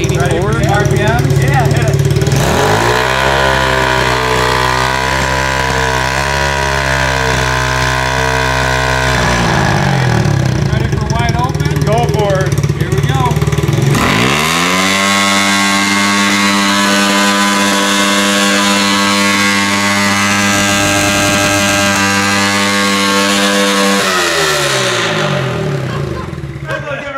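An engine revving through a muffler under test, rising to about 5,000 RPM in two long sustained pulls with harmonic drone between idle dips, loud and close, with people talking over it.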